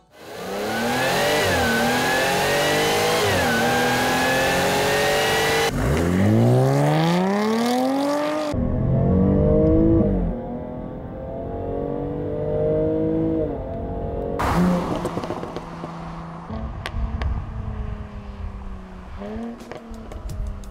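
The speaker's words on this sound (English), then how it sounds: "one of the most obnoxious exhaust systems I've ever driven" A 2019 Jaguar F-Type Checkered Flag engine revs hard through its exhaust, pitch sweeping up and down through loud bursts, with brief gear changes and lulls between.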